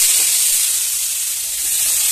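Pieces of pointed gourd (potol) fry in a pan with oil and cumin seeds, a steady, loud, close sizzling hiss throughout with no talking.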